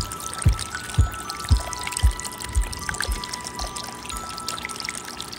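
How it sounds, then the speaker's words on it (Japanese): Rainwater drips from a shed roof into a thin water tank in a backyard, a series of evenly spaced, close watery plops about every half second against a steady trickling background. "物置小屋の屋根からポタポタと。 雨水が溜まります。"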